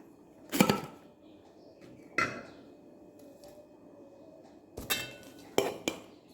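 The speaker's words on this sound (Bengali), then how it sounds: "এবার ভাতটা বাড়বো।" Hot rice is served onto a plate with fried eggplant and green chilies, giving a few sharp, close clinks and knocks of a serving utensil against the dish, separated by quiet stretches.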